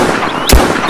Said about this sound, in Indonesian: Robocop melepaskan tembakan gencar pada robot AD-209 yang makin maju terus